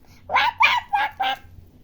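Four nasal quacks in quick succession, fairly close and loud, with a faint background hum.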